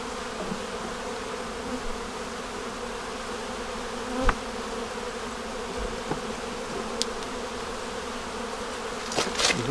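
Honey bees buzz steadily around opened hive frames while queen, egg and brood frames are rearranged, a dense close drone with occasional faint clicks and knocks, no talk.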